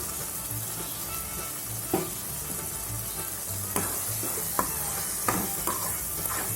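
Sweet corn is tossed into mint frying in a pan, producing a continuous close sizzle with occasional sharp taps and scrapes from stirring.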